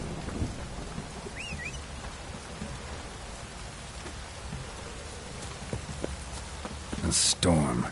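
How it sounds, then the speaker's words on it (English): Steady downpour and rumbling thunder in The Witcher video game, a constant rain hiss with low rolling booms and a louder burst near the end, with a voice speaking over it. "Proper downpour this is."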